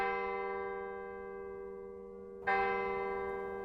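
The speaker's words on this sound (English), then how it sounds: "The bells tolled upon Dragonspire." A church-style bell tolls in Minecraft, a sustained ringing tone fading slowly before a second loud strike lands partway through and rings on alone.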